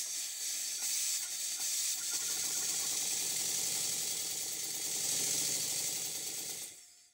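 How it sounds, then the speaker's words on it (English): Stuart Double 10V steam engine running on compressed air in a workshop: a continuous close hissing rush of air with a fast faint chuffing pulse underneath, fading out at the end. "It's time now to see whether the engine will run on compressed air."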